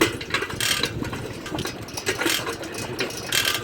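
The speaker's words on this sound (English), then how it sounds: "Maybe it's the chain that's rubbing." A bicycle chain rubs as the pedals turn, giving a faint, uneven ticking and scraping that repeats in quick cycles, close by and alone.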